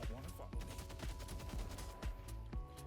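Rapid gunfire from a weapon in the hero shooter game Deadlock, dense continuous bursts of shots with overlapping impacts and game effects, loud and steady throughout.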